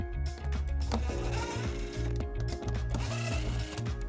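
A power tool with a 10mm socket whirs in short, buzzing bursts as it removes underbody panel screws on the driver's side of a 2019 Toyota Sienna, close and steady with brief pauses.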